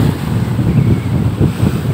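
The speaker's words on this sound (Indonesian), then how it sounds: "Ini ombak lautnya memang tinggi" High sea waves on the West Lampung coast, a steady loud roar of surf with wind buffeting the microphone, continuous throughout with swells rising and falling.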